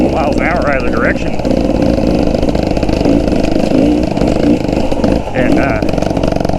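Enduro motorcycle engine running steadily while riding, a continuous loud droning hum with slight rises in revs, heard under someone talking throughout.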